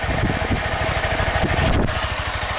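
Honda Titan 160 motorcycle engine idling near 1500 RPM, a steady rapid low thumping pulse, close and loud throughout, alone with no talk.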